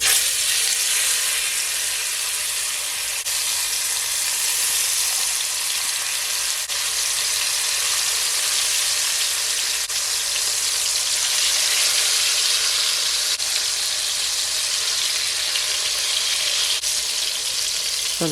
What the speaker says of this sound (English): I'm gonna add my chicken and I'm gonna fry them for at least 4 minutes on each side